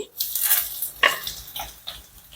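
Fenugreek seeds, curry leaves, pepper and ginger fry in hot oil for hog plum pickle, with a brief crackling sizzle broken by a few sharp spoon-against-pan stirs, up close.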